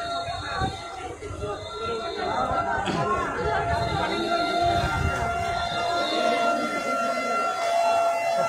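A fire service truck siren wails at a five-storey building fire beside a metro station in Shewrapara, riding over a noisy crowd with people talking loudly close by throughout.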